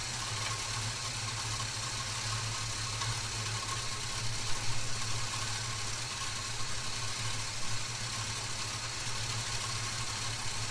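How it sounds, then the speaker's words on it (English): A Holden HK Premier wagon engine idles slowly and steadily at about 500 RPM, a low continuous rumble with a faint uneven lope, close by and alone without any talk. "I like a nice slow idle."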